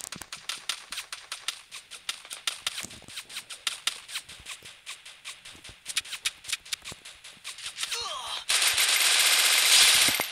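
Rapid bursts of gunfire in the video game Free Fire crackle in uneven volleys, sharp and close, ending in a sustained loud hiss of noise.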